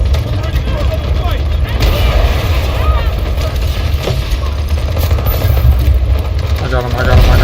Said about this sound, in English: Artillery barrage ready.